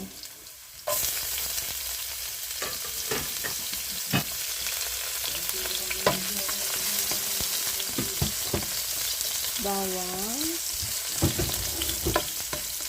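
Garlic hits a hot pan and sizzles loudly in a steady frying hiss, with a utensil stirring and scraping now and then and a brief voice partway through.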